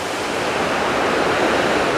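Jeongbang waterfall on Jeju crashing down nearby, a loud, continuous broadband rush of water with no break and no talking.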